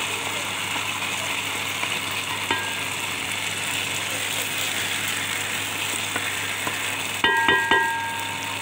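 Tomato posto with potato frying in mustard oil as the oil separates, a continuous close sizzle with a low steady hum, ending in a few sharp metallic scrapes of a spoon against the pan.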